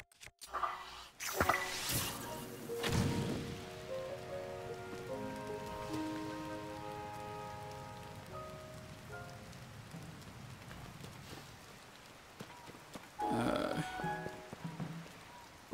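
Rain patters steadily on surfaces in Zelda: Tears of the Kingdom, with a few louder bursts, a faint rumble and soft game tones, while a person talks at times.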